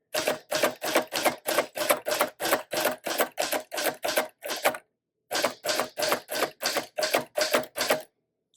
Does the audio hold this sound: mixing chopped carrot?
no